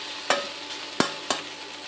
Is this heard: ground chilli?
yes